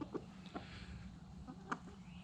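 Rhode Island Red chickens give a few faint, short clucks in a quiet backyard coop, widely spaced against a low background hum.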